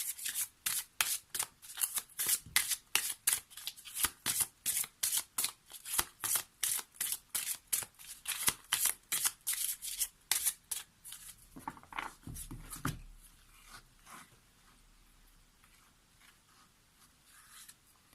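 Tarot cards shuffled in quick repeated riffles, a steady run of crisp papery bursts for about twelve seconds before fading to quiet handling.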